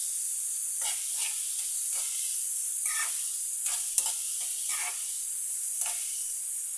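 Onions sautéing in a hot pan give a steady, close sizzle and hiss, broken by occasional stirring scrapes, with no talk.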